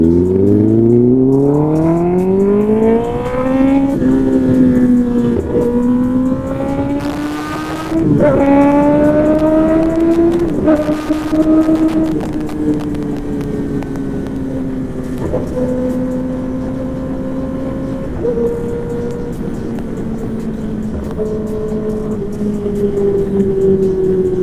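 A motorcycle with a loud exhaust pulling away hard and climbing from first to fourth gear, the engine note rising and dropping at each shift, loud and close throughout.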